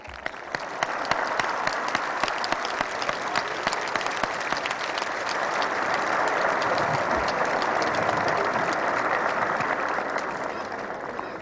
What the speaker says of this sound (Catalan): I un altre aplaudiment.